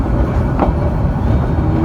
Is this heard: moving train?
yes